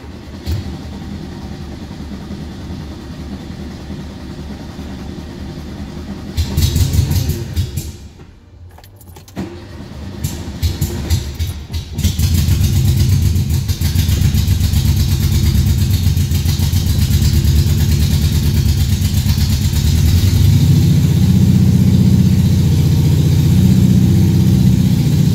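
A 1974 Volkswagen Super Beetle engine runs with a rough, uneven idle, loud and close, starting with key jingles, then stuttering and almost dying before it catches and settles into a steady, louder idle.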